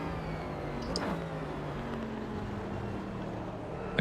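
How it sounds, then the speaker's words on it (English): Mercedes V8 race car engine in Automobilista 2, a deep, rumbling drone held steady with slight pitch changes and a brief sharper burst, close and continuous. "I'd say I like the sound of the Merc V8"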